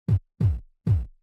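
Three evenly spaced electronic tom drum sample hits, each a soft low thud with a brief decay, fairly quiet and alone, from a progressive house production.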